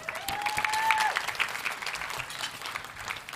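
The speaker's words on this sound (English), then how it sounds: "How about another big round of applause for the MOU signing" A conference audience at a lunch plenary applauds an MOU signing, with dense clapping that starts strong and tapers gradually, and a brief tonal squeal near the start.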